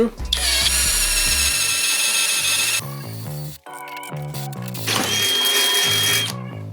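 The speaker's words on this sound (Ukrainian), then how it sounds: "спробуємо тепер на максималках, що він може сверло 10 мм" A CROWN cordless drill bores with a 10 mm bit, giving a loud, steady high-pitched whine that dips briefly mid-clip, then revs back up before easing off near the end.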